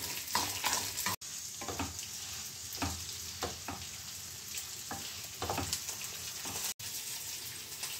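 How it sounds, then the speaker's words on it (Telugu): Chutney ingredients fry in oil with a steady crackling sizzle, punctuated by repeated scraping and clinking as they are stirred around the pan. "ఇవన్నీ వేగేలాగా వేయించుకొని ఆఫ్ చేసుకుంటే"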